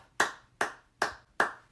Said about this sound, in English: Slow clap for Charles Ingalls.